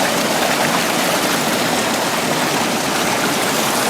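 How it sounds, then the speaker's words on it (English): Water rushes without pause over a waterfall and rapids on Sope Creek during a rainy hike. The roar is loud, close and constant. "Got this pretty waterfall, awesome rapids behind"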